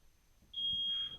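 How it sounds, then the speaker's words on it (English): A smoke detector's shrill, steady electronic alarm tone in a fire burn demonstration starts abruptly and holds loud and continuous, with faint low rumble underneath. "The resident hears the smoke detector and wakes up."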